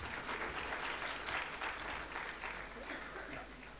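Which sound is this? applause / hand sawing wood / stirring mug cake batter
applause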